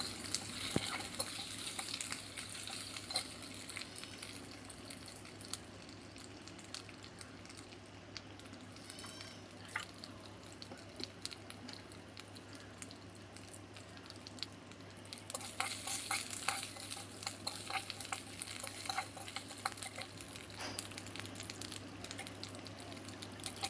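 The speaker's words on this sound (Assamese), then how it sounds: "এইখিনিতে অকণমান ভাজি লওঁ।" Small pieces of cinnamon, bay leaf, ginger and garlic fry in a pan with a soft, steady crackling sizzle and occasional stirring, fairly faint and continuous, thickening somewhat in the later part.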